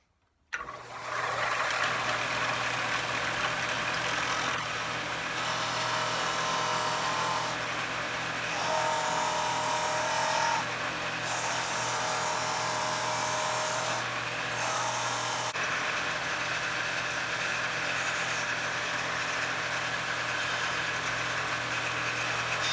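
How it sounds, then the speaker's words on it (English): Steady, loud whine of a power sander grinding a wooden swimbait fishing lure, continuous for the whole stretch with a few brief shifts in tone as pressure changes. "So now I'm gonna sand down to that, to those lines."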